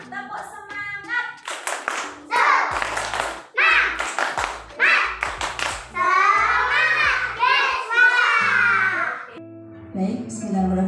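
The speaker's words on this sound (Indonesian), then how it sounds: "Tepuk semangat." Schoolchildren in an Indonesian classroom perform a rhythmic spirit clap, sharp patterned hand claps in quick bursts mixed with their chanted voices, loud and close, after a teacher's spoken cue.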